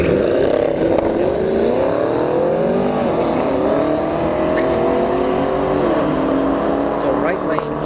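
A drag race car at ShowTime Dragstrip roars close and loud throughout, its rising engine tone sweeping upward as it launches down the strip, with voices mixed in.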